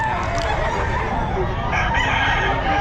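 A Melsim Grey gamefowl rooster crows loudly and close by amid the steady din of a busy pet market in Bocaue, its call riding over background chatter and other birds.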